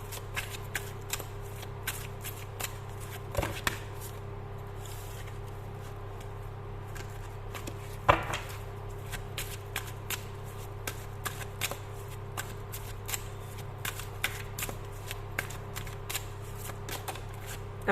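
Tarot cards being shuffled by hand make quiet, repeated crisp riffling flicks in an irregular rhythm over a faint low hum, close to the listener and without speech.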